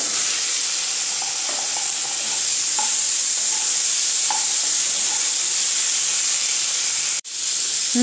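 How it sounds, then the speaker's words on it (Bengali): Onion and tomato fry in mustard oil for a Bengali cauliflower do pyaza, a steady loud sizzle and hiss running throughout with occasional soft stirring clicks and a brief dip near the end. "এখন এই তেলেই আমি এখন পেঁয়াজ আর টমেটোটা ভেজে নেব হালকা করে।"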